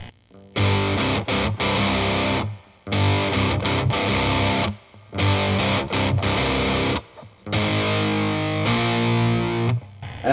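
Heavily distorted electric guitar chugs through the pre-chorus of a song in loud, rhythmic bursts broken by short gaps, with no voices.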